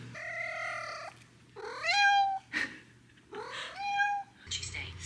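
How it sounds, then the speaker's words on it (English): Three drawn-out meows from a nearby cat, rising and falling, separated by short pauses, with a faint hum underneath. "Can you hear that meowing?"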